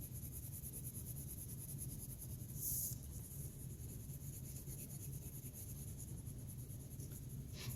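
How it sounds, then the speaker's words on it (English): A crayon rubs lightly across paper during a kindergarten coloring lesson, a soft, steady scratchy texture running continuously with one brief brighter scrape partway through. "I'm coloring it in nice and light, not pushing hard on my crayon at all"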